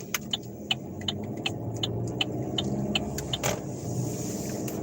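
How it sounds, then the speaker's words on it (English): Steady road traffic rumbles around a car driving home from a grocery store, a continuous engine and tyre drone with small clicks and rattles inside the vehicle, no talk. "it's a lot of traffic still."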